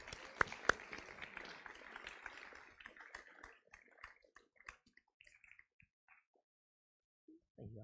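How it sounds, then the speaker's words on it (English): Audience applause for a Year 8 boys volleyball team at a school sports awards ceremony, a burst of clapping that thins into scattered claps and fades to silence. "Can I please get a round of applause for the Year 8 Boys Volleyball?"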